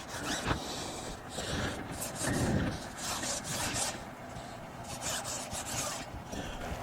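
An applicator pad soaked in tire soap is rubbed around the sidewall of a dirtbike tire, giving close, continuous scrubbing and swishing with uneven rough strokes at moderate volume.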